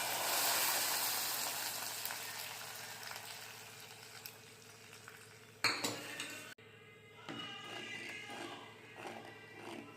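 Lentils go into a hot tempering of cumin, mustard seeds, garlic, curry leaves and dried red chillies in a pan, with a soft sizzle, metal spoon clatter against the pan and sharp stirring knocks midway, fairly quiet.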